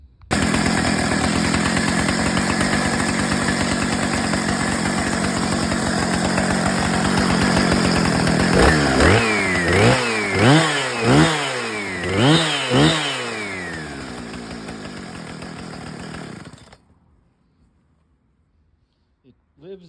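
A restored Husqvarna 455 chainsaw runs loud and close at a high, steady idle, then blips through a series of rising and falling revs before cutting out to near silence.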